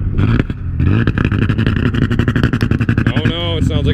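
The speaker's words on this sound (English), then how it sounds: "it sounds like it's out of gas" A car engine sputters and chugs as if out of gas during a failed burnout attempt, with loud uneven pulses and rough bursts close by, and people talking over it.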